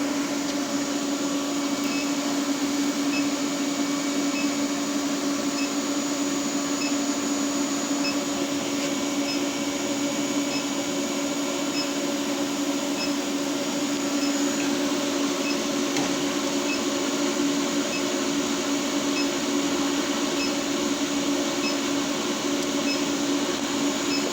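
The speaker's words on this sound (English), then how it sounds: "This is called an Induction Forge. Basically uses magnetic induction to heat up the metal." An induction forge heats a 1-inch steel bar, giving off a steady electrical hum with a thin high whine that holds unchanged throughout, with no talking.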